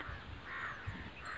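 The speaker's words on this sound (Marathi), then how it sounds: "कावळे पण वरडाय लागलेत" Crows cawing in the midday heat near a large drumstick tree, a couple of harsh calls over a quiet outdoor background.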